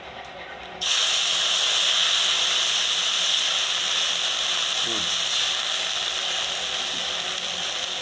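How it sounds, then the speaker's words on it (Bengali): Water hits a hot pan with black cumin seeds while Bengali mustard hilsa fish is cooked. A sudden loud, steady hiss and sizzle starts and holds unbroken to the end, fading only slightly. "জল দিয়ে দেবো"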